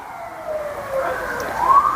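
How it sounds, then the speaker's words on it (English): An emergency vehicle siren wails outside a home, rising and sweeping in pitch as it passes, fairly loud and growing stronger toward the end, with no talk over it. "Hello, sirens, my old friend."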